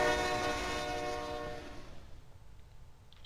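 A train in the video game Mind: Path to Thalamus sounds a long sustained horn-like tone with rumbling rail noise that fades away over a few seconds, ending with a brief sharp click.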